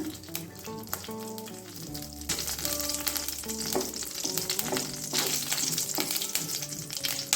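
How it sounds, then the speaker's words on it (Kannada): Cumin seeds sizzle in hot coconut oil in a pan on a gas stove, a close crackling fry that grows busier after a couple of seconds, with musical tones playing underneath and no speech. "ಚಿಟಿಕೆ ಜೀರಿಗೆ ಹಾಕೊಳ್ಳೋಣ."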